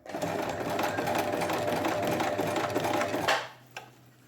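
A sewing machine stitches a set-in sleeve in a steady, fast run of needle rattle, then stops near the end with a couple of faint clicks.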